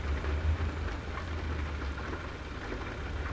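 Steady rain falls with a constant hiss of drops, and a low rumble underneath suggests distant thunder. The sound is moderately loud and continuous, with no voices.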